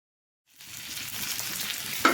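Stuffed okra sizzles in hot oil on a griddle, a steady crackling fry that starts abruptly after a short silence, with a brief scraping clink near the end as the pieces are turned.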